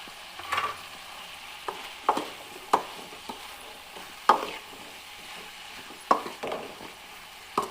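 Finely chopped brinjal pieces stirred and frying in a pan for an eggplant-tomato curry, with a steady low sizzle broken by repeated sharp scrapes of the spoon against the pan at irregular intervals, close and without talk.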